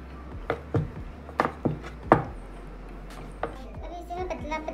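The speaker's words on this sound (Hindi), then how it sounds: "अभी इसे मैं पतला पतला काटूँगी।" A knife chops rolled roti dough into thin strips on a board in a home kitchen. The cuts come as several sharp, irregular taps, and a voice and other chatter run softly underneath.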